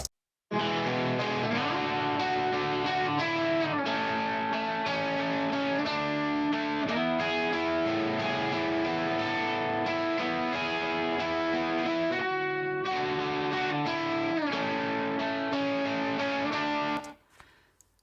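A compressed, distorted left-hand electric guitar plays a steady chord riff, thick and even in level, then cuts off abruptly near the end.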